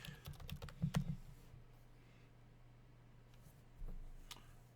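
Quick bursts of typing on a computer keyboard, a cluster of close, light key clicks early on, then mostly quiet with a couple of isolated taps, no talk.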